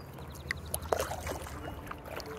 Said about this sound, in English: paddling here.